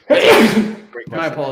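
A man sneezes once, loud and close, in the middle of a conversation about watch collecting, and right after it another voice starts speaking.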